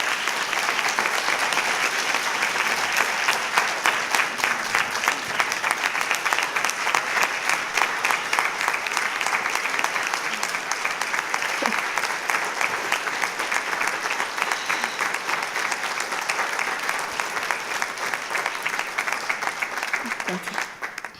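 Awards ceremony audience applauding honorees at a governor awards program, a dense, sustained wave of many hands clapping that stays loud and even for about twenty seconds with faint crowd murmur beneath.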